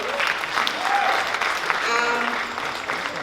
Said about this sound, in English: please give a big round of applause to her.